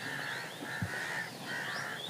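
Crows answer a man's calls with a few harsh caws, moderately faint and spaced across two seconds against a soft outdoor hiss.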